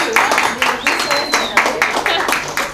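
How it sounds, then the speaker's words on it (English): An audience at a Coffeebreak art gathering claps for everyone: a steady run of close, fairly loud hand claps with a regular pulse, mixed with voices throughout. "Give everybody an applause"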